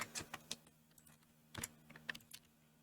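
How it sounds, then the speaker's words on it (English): Quiet, close computer keyboard typing in irregular bursts of clicky keystrokes over a faint low hum. "my fan or my keyboard noises are obnoxiously loud"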